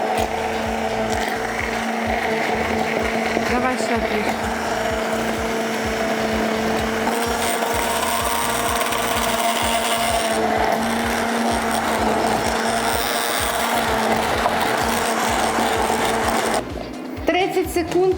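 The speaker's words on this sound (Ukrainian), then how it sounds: "все заряджаємо туди і збиваємо" Steady mechanical whirring of an electric mixer beating rice pancake batter, continuous and close, with a brief shift near the end.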